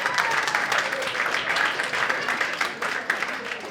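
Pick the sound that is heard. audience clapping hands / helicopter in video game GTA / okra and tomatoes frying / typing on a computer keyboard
audience clapping hands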